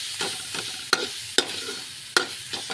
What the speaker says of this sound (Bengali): এখন মশলাটাকে কষাচ্ছি সুন্দর করে দেখো